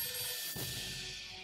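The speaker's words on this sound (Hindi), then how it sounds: "रात 2 बजे बजी सीएम सरना के फोन की घंटी" A mobile phone ringtone rings steadily for a second and a half at the cricket-like tone of a telephone bell, close and moderately loud, with a brief dip partway through and no talking.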